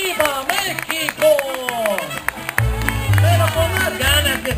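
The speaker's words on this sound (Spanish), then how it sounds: "Ese aplauso fuerte a todos ellos." Crowd at a horse show in Cancun, Mexico claps and cheers in a steady wash, mostly under a loud amplified announcer talking over music with a deep low-end throb.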